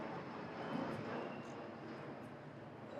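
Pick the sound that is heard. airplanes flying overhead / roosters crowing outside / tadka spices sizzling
airplanes flying overhead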